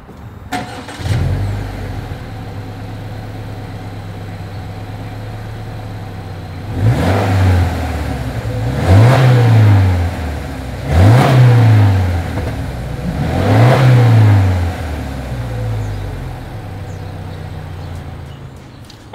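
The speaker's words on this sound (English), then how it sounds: "As always, here is that exhaust clip." Exhaust of a 2020 Subaru Legacy XT: the engine idles low and steady, then is revved in four or five distinct blips that rise and drop back to idle between each, close and loud with no talking.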